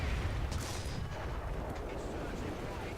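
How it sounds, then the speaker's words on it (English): Heavy cannon fire from a Japanese Chi-To tank's 75mm gun in an arcade-style tank battle, dense booming blasts and rumbling explosions filling the whole stretch, loud and continuous with no pauses. "But the second shot finishes it off"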